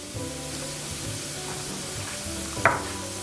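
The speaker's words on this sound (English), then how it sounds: "So once the oil heats a little, I'm gonna go ahead and add my turmeric powder and my curry powder." Turmeric and curry powder hit hot oil in a pot with a soft, steady sizzle and some stirring, ending in a brief sharper hiss, with no talking.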